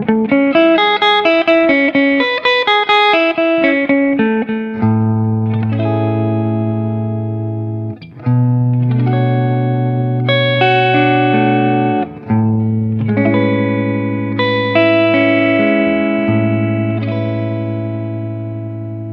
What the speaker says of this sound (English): let's try the neck humbucker totally clean.